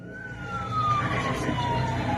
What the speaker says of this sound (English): you could also hear fire trucks arriving at the scene